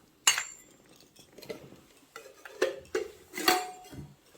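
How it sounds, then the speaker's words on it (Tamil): Small metal cooking pots, a mini kadai and nested containers clink and clatter as they are lifted and unpacked from a parcel, several sharp metallic knocks spread over a few seconds at close range, with no talking. "சின்னதாக ஒரு பானை"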